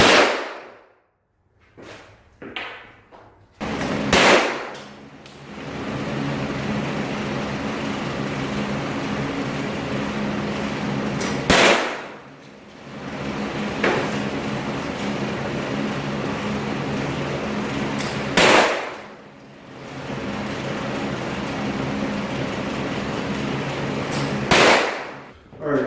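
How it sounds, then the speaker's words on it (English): Sharp percussive blows of a nail gun or hammer fastening plywood subfloor over concrete, a handful of loud isolated cracks spaced several seconds apart over steady background hum and occasional talk. "There, hammer it right there."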